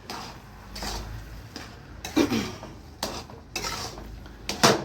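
A spoon stirs carrot halwa mixed with milk powder in a metal pot, giving several separate scraping and clinking strokes against the pot with short pauses between them.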